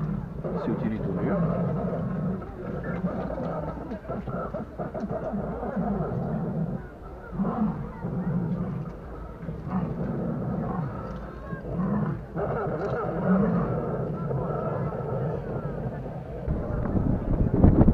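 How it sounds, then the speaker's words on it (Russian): A live lion roars and growls on a safari in Taigan park, Crimea, close by behind a person, low rumbling calls mixed with wind buffeting and a vehicle, while people talk over it. "Сзади меня живой лев бегает."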